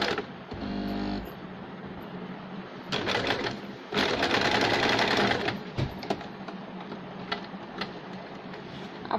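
A sewing machine stitches across both sides of a fabric bow to fix designer sleeves in place, a close whirring, rattling run that starts and stops in bursts of varying length, with no voices.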